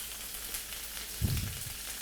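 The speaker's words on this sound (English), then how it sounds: "Caramelize some fucking onions or whatever." Onions fry for a curry, a soft steady sizzle hissing in a pan with a brief louder stir or clatter in the middle, nearby and low in level.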